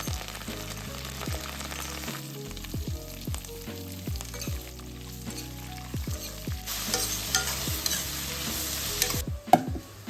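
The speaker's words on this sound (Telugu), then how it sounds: "ఇప్పుడు కడాయి ప్లేస్ చేసేసుకొని అందులో ఆయిల్ వేసేసుకొని పోపు దినుసులు అన్నీ కూడా యాడ్ చేసేసుకొని మంచిగా ఫ్రై అయిపోవాలి." Tempering spices, onions and green chillies sizzle in hot oil in a kadai, a steady close frying hiss with repeated stirring scrapes and clinks.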